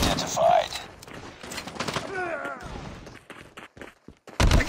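Gunfire in a Call of Duty hardpoint match comes as scattered sharp cracks and short bursts, with a heavier burst at the end, mixed with voices and game announcements.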